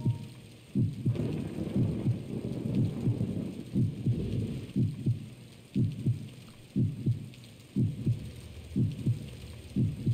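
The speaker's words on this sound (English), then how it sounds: "It's raining, it's pouring" Rain and thunder in the video game Dementium: The Ward: rain hisses steadily while low rumbling thumps pulse at a regular rhythm underneath, with no voices.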